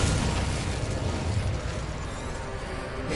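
Incendio fire spell cast in Hogwarts Legacy, a steady roaring, crackling burst of flame with mechanical rattling, loud and continuous for a few seconds with no talk.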